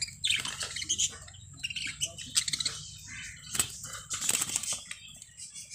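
A female budgie in a newly set-up cage gives sharp, scattered chirps and squawks, some with brief wing flutters, close by and in irregular bursts with quiet gaps between.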